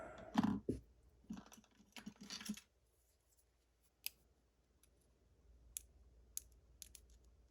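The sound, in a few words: lock pick clicking inside lock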